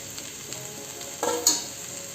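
Coriander being stirred into sizzling Kolhapuri misal masala: a steady close hiss of frying with light spatula taps, then two quick louder scrapes and splutters as the leaves go in.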